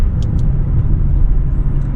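Steady low rumble of a McLaren 570GT sports car engine heard while driving, close and continuous, with only slight swells in level and no clearly separate gear shifts.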